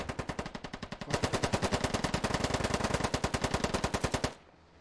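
Sustained automatic gunfire in the military shooter Squad: a long, close, loud burst of evenly spaced rapid shots that runs nearly five seconds, briefly eases off before intensifying, then stops abruptly, leaving a faint tail.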